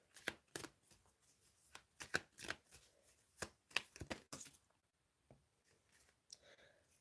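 Tarot cards being shuffled and drawn, with quick papery riffles and slaps in irregular bursts, close up and fairly quiet, with brief pauses between.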